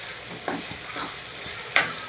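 Ginger garlic paste is stirred into bitter gourd frying in a pan, giving a soft continuous sizzle broken by a few scraping spoon strokes and one sharper clack near the end.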